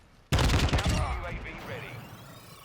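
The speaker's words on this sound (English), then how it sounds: "Now let's see the counter UAV." The Modern Warfare 2 counter UAV sound played in Warzone 2: a sudden loud burst with a crackling, distorted texture that decays into a fading, wavering electronic tail over about two seconds.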